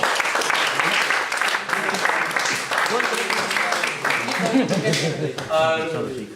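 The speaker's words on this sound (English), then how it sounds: "we'll give him a round of applause anyway" Crowd applause at a cricket club awards ceremony for a Premier Division winner, steady clapping throughout with voices talking over it, and a brief whistle-like tone rising near the end.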